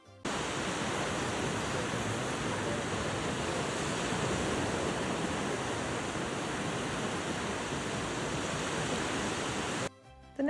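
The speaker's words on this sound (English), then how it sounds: "here's some more beach sunset ASMR for you" Ocean waves wash onto a beach in Mexico at sunset, a steady, even roar of surf that fills the scene without pause, with no voices.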